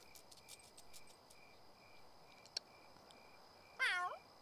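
A cat meows once near the end in a video game, a short clear call over a quiet background of chirping crickets and small ambient ticks.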